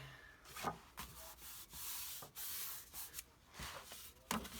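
Edges of a paper file folder album being burnished by hand, giving repeated dry rubbing and scraping strokes, close and fairly loud, in short bursts with brief pauses and no talk.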